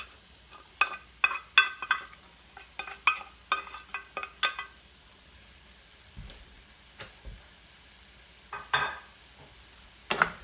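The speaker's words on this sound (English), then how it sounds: "Then we just break up the rice, and we really just let this cook for about another 5 minutes." Leftover rice with peas is stirred and fried in a pan, a spatula scraping and tapping in irregular bursts over a faint, low sizzle, close and fairly quiet.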